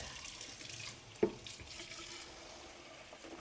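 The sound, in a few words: cold tap water running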